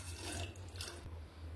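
Water pours steadily into a pressure cooker holding soaked chickpeas, a faint, continuous splashing rush that fills the short moment alone.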